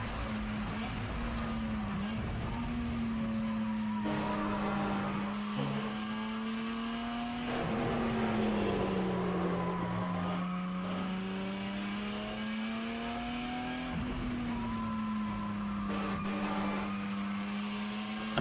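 A race car engine drones loudly and continuously during a ChampCar endurance race at Mid-Ohio, its pitch rising and dipping through gear changes and corners, heard from close by inside the car with no voices over it.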